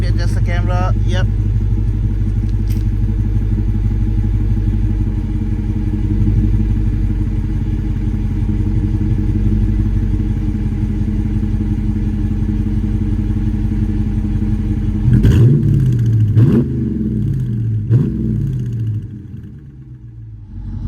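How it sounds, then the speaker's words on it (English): The V8 of a Dodge Charger RT with a resonator delete and 5-inch Carven exhaust tips idles loudly and steadily up close, then gives several sharp revs that rise and fall near the end before settling back. "I'm gonna do the rev a little bit so you guys can see."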